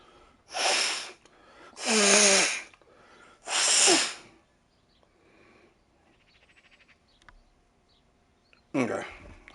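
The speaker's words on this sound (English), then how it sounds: "I gotta blow my nose." A person blows their nose in three loud, wet bursts close up, each lasting about a second, with a fourth burst starting at the end after a quiet pause.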